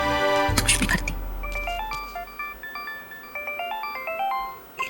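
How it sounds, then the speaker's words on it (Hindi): A phone ringtone plays a short repeating electronic melody, clear and close, after a brief thump and rustle at the start. "लीला जी का फोन"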